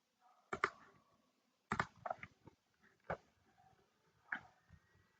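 Computer mouse clicks in engineering design software, a handful of sharp, quiet, close clicks spaced irregularly over a near-silent background.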